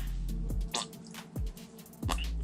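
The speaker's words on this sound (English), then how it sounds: "Pour our blood into the bucket." Thick fake blood glugs from a container into a bucket in a few separate wet plops and drips, close and fairly loud, each ending with a squelchy splash.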